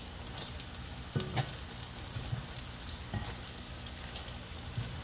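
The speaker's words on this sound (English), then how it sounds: "this is the easiest way to fry squash" Squash frying in a pan, a steady crackling sizzle with a few soft stirring bumps, close and fairly quiet, with no voices.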